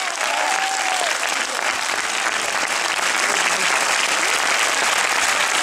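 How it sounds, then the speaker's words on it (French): A theatre audience at a film premiere bursts into steady, dense applause as guests walk onto the stage, a loud, continuous wash of clapping with no break. "sous un tonnerre d'applaudissements"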